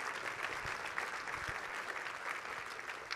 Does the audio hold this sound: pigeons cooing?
no